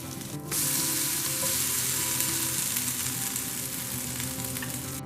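Pumpkin brioche French toast frying in a hot pan: after a brief quiet start, a loud, steady, close sizzle fills the rest of the clip with no voices.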